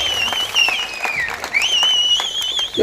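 Applause from an audience at a Kannada Rajyotsava celebration, dense clapping mixed with whistles that rise and fall throughout, with some crowd voices underneath.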